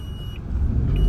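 A Renault Triber's engine drones at high revs in its very low gears while driving, a steady rumble that builds slightly in loudness, with no talking.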